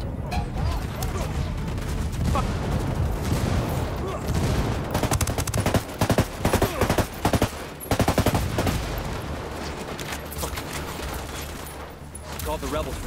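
Gunfire and a frag grenade blast in the video game Ghost Recon Wildlands: dense bursts of rapid shots and booming impacts fill the scene, with a string of sharp, close reports in the middle and players talking throughout.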